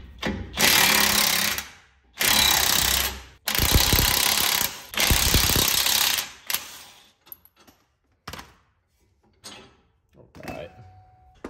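Loud bursts of a power impact tool rattle in several long runs with short pauses while parts come off a vehicle for a Speed Engineering traction bar install, followed by quieter clanks and handling noises.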